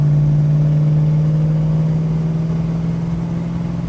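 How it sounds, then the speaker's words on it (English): The starter motor on a Holden HK engine cranks sluggishly as a loud, steady, low droning whir with a faint pulsing, slowing slightly toward the end without catching. "I've just got to work out why the starter's just so bloody groggy like that"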